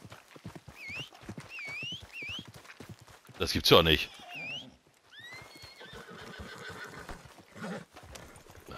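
Horse neighing in the Red Dead Redemption 2 video game, several sharp whinnies close by mixed with hoof clip-clop, with a loud burst in the middle and someone talking over much of it.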